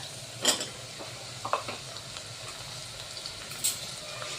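Onions frying in a pan for spicy shev bhaji, a soft steady sizzle with occasional louder stirring scrapes and clinks, close and without talk.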